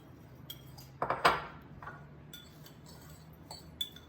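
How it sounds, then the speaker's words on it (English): A small fork clinks against a bowl while stirring soaked oats with cinnamon: scattered light clinks and a louder scraping clatter in the middle, close by. "Stir that up with a little fork."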